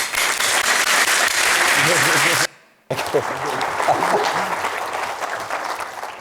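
An audience claps in sustained applause to welcome Gordon Price to the stage for a talk on Vancouver as a walking city. The clapping is dense and loud, breaks off for a split second, then resumes at a slightly lower level.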